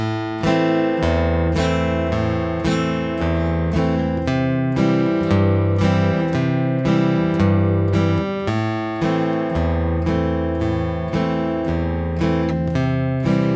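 Acoustic guitar plays two chords in a steady pattern, single bass notes alternating between strums, bright and close.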